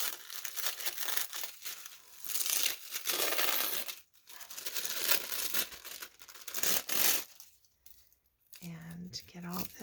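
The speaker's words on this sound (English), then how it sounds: "the first thing I need to do is just tear the pocket off" A fabric pocket being torn away from tissue paper in a journal, with bursts of close ripping and crinkling broken by short pauses, and a voice heard briefly near the end.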